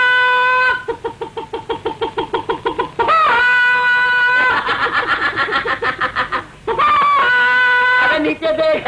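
A man imitates a rooster with a loud, harmonic crowing voice broken into rapid clucking pulses, close and repeated several times in bursts, with other voices joining in between.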